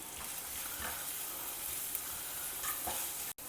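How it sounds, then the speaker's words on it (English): Onions fry with salt and turmeric (haldi) in a close, steady sizzle and crackle, joined by soft stirring scrapes, with a brief dropout near the end. "When the onions are well fried"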